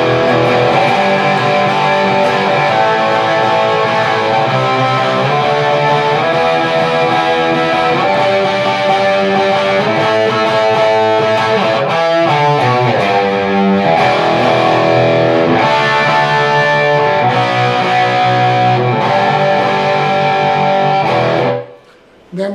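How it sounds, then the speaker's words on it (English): Distorted electric guitar chords from a song, doubled by slide guitar, ring out in a loud, sustained, overdriven passage for about twenty seconds before cutting off abruptly near the end. "the non-slide guitar enters with these chords"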